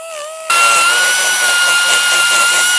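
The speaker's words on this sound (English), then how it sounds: "So I'm gonna take my die grinder and do a little operating." A die grinder bites into metal, its high, steady whine jumping up sharply after a quieter spin-up and holding loud and close throughout.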